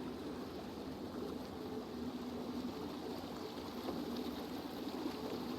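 Waterfall in the video game Scrap Mechanic: a steady, even broadband rush of falling water runs for the whole stretch at moderate volume, with no voices over it.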